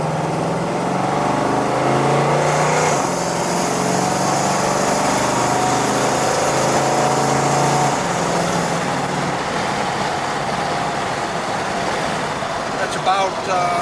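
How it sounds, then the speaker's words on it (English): A 1970 Chevrolet El Camino pulls away from a light on the road, its engine note climbing steadily through the revs before easing off into cruising. "We'll do a little bit of acceleration here."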